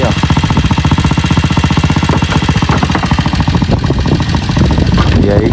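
A homemade invention driven by a motorcycle engine chugs loudly and close by, its rapid, even pulsing running steadily throughout, with a voice heard briefly over the rattling engine.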